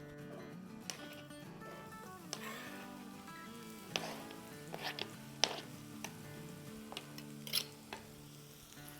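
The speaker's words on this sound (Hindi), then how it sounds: "यहाँ हम डाल देंगे अंदाज़न 6 से 7 टेबल स्पून तेल और यहाँ हमारी प्याज़ें चली जाएगी" Onions sizzling and frying in about six to seven tablespoons of oil in a pan for an egg-and-onion salan, a steady dense crackle with occasional stirring clatter, close and continuous with no talk.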